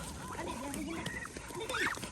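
Ducks quack and honk nearby in short bursts, mixed with a person talking over them.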